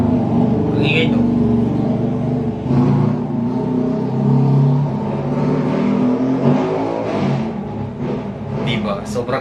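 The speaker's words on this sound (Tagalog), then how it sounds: "Sobrang ingay ng sasakyan." A loud car passes close by, its engine roar swelling and fading over a steady road rumble while people keep talking over it.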